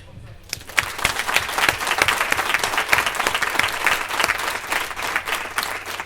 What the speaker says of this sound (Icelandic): Ég vil bara klappa fyrir ykkur.